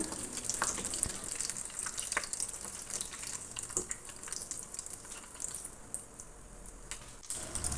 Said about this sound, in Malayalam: ഇതാ ഫ്രൈ ആയിട്ടുണ്ട് കേട്ടോ ഇനി നമുക്ക് എണ്ണയിൽ നിന്നും കോരി മാറ്റാം